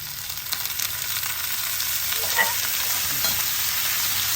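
Tomato chutney with turmeric and green chillies fries steadily in oil, a continuous close hiss and sizzle with a faint stir midway and no talking.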